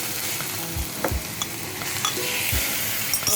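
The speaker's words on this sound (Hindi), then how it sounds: "अब इसमें भूनते हैं कीमे को।" Minced meat frying with ginger and garlic in a pan, sizzling steadily while a spoon stirs and scrapes through it in a few distinct strokes, close and clear.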